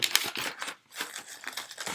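Paper packing crinkles and crumples close up while Warlord Games tank models are unboxed, a dense run of crisp rustling bursts with a brief pause midway.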